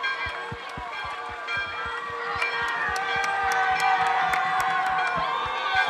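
A Christmas parade crowd cheers and claps at a distance while a bell carried by a high school football team clangs in a steady, repeated rhythm throughout, the cheering swelling toward the end.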